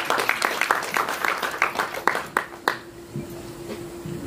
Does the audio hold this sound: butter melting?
no